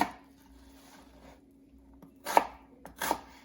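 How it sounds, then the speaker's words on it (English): A knife chops onion into small pieces on a cutting board, giving a few sharp, close chopping knocks after quiet soft rubbing, with a low steady hum underneath. "So you want the onion sliced into nice little pieces."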